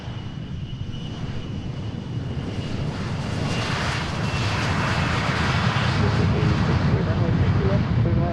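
A private jet rolls down runway 32 left at Boeing Field for takeoff, its engine roar a broad, loud, continuous rumble that swells steadily, with radio chatter from the tower mixed in.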